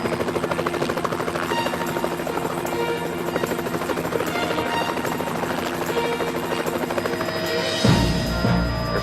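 Helicopter in flight on an Alaska tour, a loud continuous rotor thump and turbine whine heard from inside the cabin, steady throughout with a brief louder rush of noise near the end.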